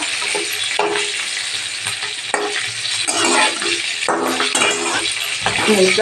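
Green chilies roast in a hot pan for a spicy chili side dish, giving a close, busy sizzle with scraping stir strokes and occasional utensil clatter, with no talking over it.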